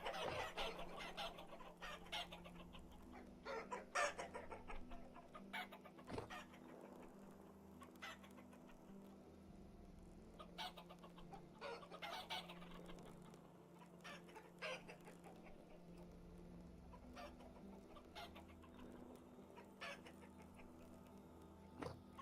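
Chickens in the video game Vintage Story cluck repeatedly over about twenty seconds, with scattered short calls and an occasional crow-like call rising above a steady low background hum; nobody speaks.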